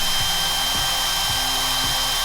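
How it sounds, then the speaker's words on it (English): A power drill with a worn bit whines in a constant high tone while working a part on a 1954 Bel Air rat rod. A low thump comes about every half second as the bit grabs. "that drill bit's junk"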